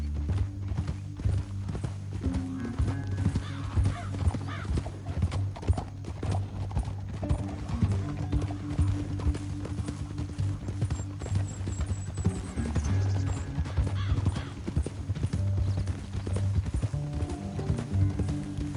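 Horse hooves clip-clop steadily at a riding pace in Red Dead Redemption 2, close and continuous over a low music-like drone, with an occasional whinny and faint mechanical creaks.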